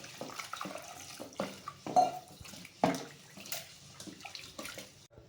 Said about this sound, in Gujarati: હવે એને સારા પાણીથી આપણે ધોઈ લઈશું।